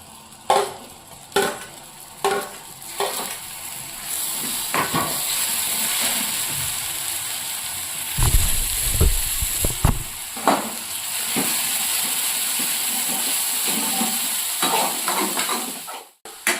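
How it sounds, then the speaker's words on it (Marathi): Tomato paste with onion and golden-browned coconut masala fries in hot oil for a Maharashtrian fish curry, giving a steady close sizzle and hiss with scattered scrapes and clatters of stirring. "आता हे टोमॅटो कांद्याला मस्त असं तेल सुटेपर्यंत फ्राय करायचं"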